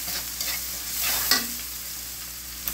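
Turmeric frying in a hot pan, with a steady sizzle and stirring throughout and a sharper scrape of the utensil near the middle.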